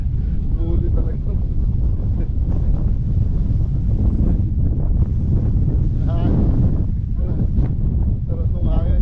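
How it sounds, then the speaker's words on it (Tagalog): Strong wind buffets the microphone outdoors in a continuous loud rumble and roar, while people's voices break through faintly underneath. "Sarap nung hangin."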